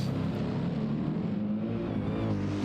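An AMG GT race car at Le Mans in a racing game holds a loud, continuous engine drone as it brakes hard, a dense, close, steady roar.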